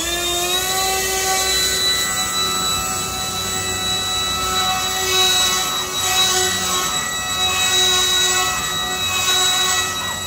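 An RC model electric motor running at three-quarter throttle, a steady high-pitched whine with strong tonal harmonics and a constant loud level, close and alone throughout.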